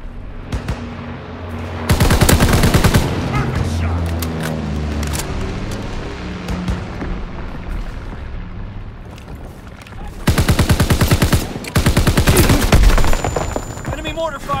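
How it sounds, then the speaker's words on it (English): Loud bursts of automatic gunfire and heavy booming artillery blasts in Call of Duty: WWII, with dense rattling volleys early and late and sustained battle noise in between, while game voices call out commands. "Incoming enemy artillery! Get to cover!"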